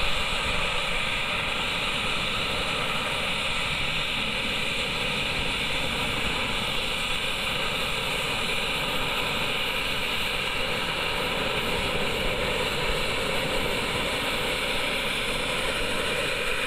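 Jet suit engines roar steadily in rainy, windy conditions, a loud continuous broadband turbine rush with no breaks, heard alone without talking.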